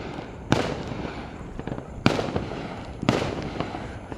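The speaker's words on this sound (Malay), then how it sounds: "tengok je bunga api mercon tu." Fireworks and firecrackers burst outside a house at night, three sharp, loud bangs spaced about a second apart, each followed by crackling and scattered smaller pops.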